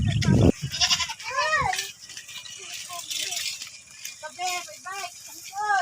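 Goats bleating at a goat house on a farm in Oriental Mindoro, several wavering calls repeated through the clip, fairly close, with a brief burst of voice and rattling noise at the start.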